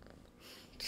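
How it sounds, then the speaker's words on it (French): A cat purring softly and close by, a brief, low, steady rumble with a slight rise in breathy noise toward the end. "Tu fais des ronronnes."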